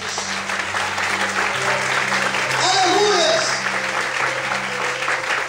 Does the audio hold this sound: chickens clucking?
no